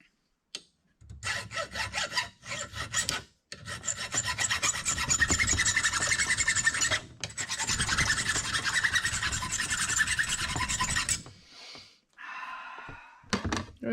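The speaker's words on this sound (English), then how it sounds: "Jed's currently filing his last washer." A metal washer is filed by hand on a '68 GMC restoration job, with long rasping strokes in steady bursts and short pauses between them, close up and loud, ending with a few lighter scrapes.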